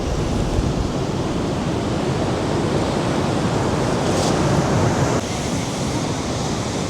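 Ocean surf washes onto a beach in Tenerife as a steady, loud roar of broadband noise with no distinct breaks and no voices.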